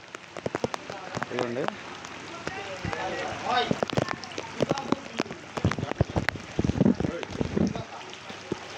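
Heavy rain falling on a flooded village with water entering houses, a steady patter and splashing of drops close by, with someone talking over it.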